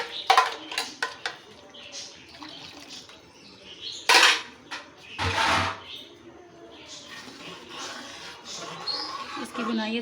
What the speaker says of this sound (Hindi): अब इसको अच्छे से मैं भून लूँगी।